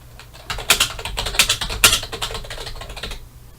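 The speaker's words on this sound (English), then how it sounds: "and we type something else." Close, quick clatter of keys on a computer keyboard, an uneven run of typed strokes lasting a few seconds in a quiet room.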